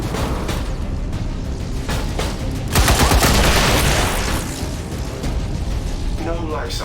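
Hostile weapons fire in the video game XCOM 2 comes as loud, dense bursts of gunfire and booms, swelling into a heavier barrage midway, close and continuous over game sound.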